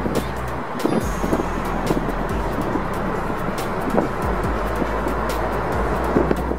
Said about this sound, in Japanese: こちらは強風の中を離陸する飛行機です。